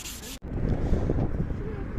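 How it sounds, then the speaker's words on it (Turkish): Steady wet scraping and rubbing as sandpaper wet-sands a yellowed car headlight, close and continuous, after a brief louder burst at the start and a short cut of silence. "Sulu zımpara yaparak işe başlayacağım."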